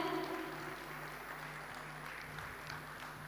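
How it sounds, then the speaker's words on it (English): Conference attendees at a fire safety event give a soft, sustained round of applause, distant and even throughout, with a faint electrical hum underneath. "let's give a huge round of applause and welcome them"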